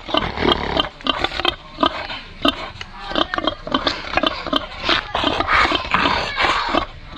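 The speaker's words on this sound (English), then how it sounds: "I hear some pigs." Close, loud grunts and snorts from pigs in Palenque, Colombia, come in quick irregular bursts with rustling and shuffling between them, continuing throughout.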